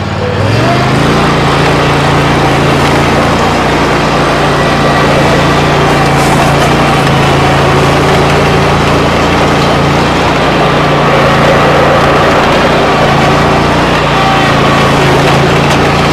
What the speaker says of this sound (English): We're going to fire this mower up.